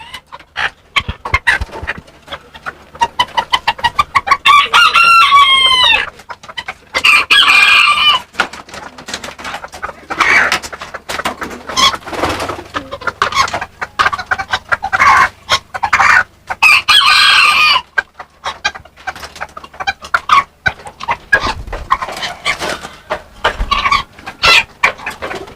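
Serama chickens kept as breeding stock, with repeated loud crowing and bursts of clucking from several birds close by, a dog barking now and then among them.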